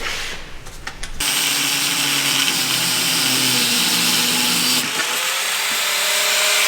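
A disc cutter slices through a seized droplink nut on a Ford Focus ST, a loud, steady high-pitched grinding whine that starts abruptly after a brief quieter moment and runs continuously to the end with a slight dip partway.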